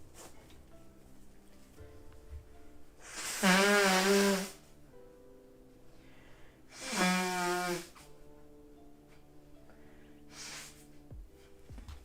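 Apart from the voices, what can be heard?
blowing nose into a tissue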